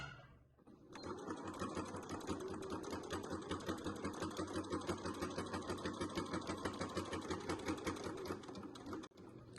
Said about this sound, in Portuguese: Começa com pé de máquina a sua costura, vai fazer toda a volta pé de máquina